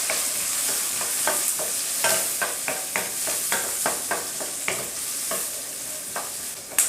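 Shallots and about twenty garlic cloves sauté in a pan for mutton poondu varuval, a steady sizzle broken by repeated stirring scrapes at an uneven rhythm, with no one talking.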